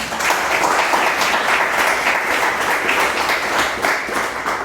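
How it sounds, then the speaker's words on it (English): A crowd applauds for a man's wife in a studio audience, continuous, loud, close clapping from many people that stays level throughout without voices. "Round of applause for my wife"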